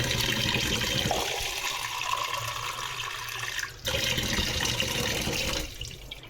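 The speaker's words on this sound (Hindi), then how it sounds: "इनके बाउल में पानी डालती हूँ" Tap water runs steadily into a pets' bowl, a close continuous splashing gush with a brief dip in the middle and a softer trickle near the end.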